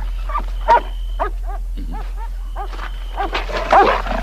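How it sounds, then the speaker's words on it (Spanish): Several dogs bark and yip in rapid, overlapping bursts, close and loud, with whimpering tones mixed in over a steady low hum. "Creo que un celoso con barba ha soltado los perros."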